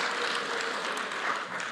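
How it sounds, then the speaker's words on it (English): Applause from an audience at a business parliament event welcoming national champions, a steady, moderately loud patter of many hands clapping for under two seconds. "If you could please give them a round of applause."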